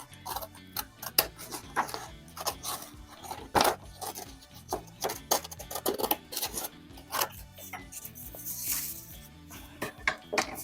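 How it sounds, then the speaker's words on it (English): Scissors cut through folded paper for a ddakji tile, making quiet, irregular snips and crisp crinkles close by with no one talking. "now with our scissor we will cut"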